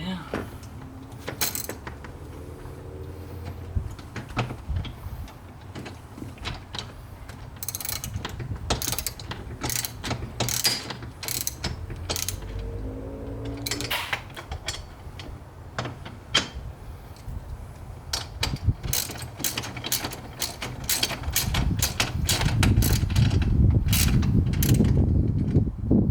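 An Allen key tightens a bolt on a Cusco strut brace being fitted to a 2020 Toyota Supra. Close ratcheting clicks and metallic rattles come in uneven bursts, with someone talking at times and a rising rumble near the end.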